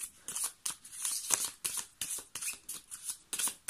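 Tarot cards being shuffled for a reading, a close, crisp run of rapid riffling bursts repeating in a quick, regular rhythm.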